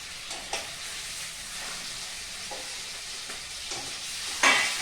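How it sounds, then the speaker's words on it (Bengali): Katla fish pieces frying in hot oil give a steady, loud crackling sizzle that continues throughout, with brief louder spatters and a sharper burst near the end. "এখন আমি মাছগুলো ভাজা করে নেব।"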